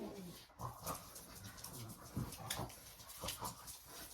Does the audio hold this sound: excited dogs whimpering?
yes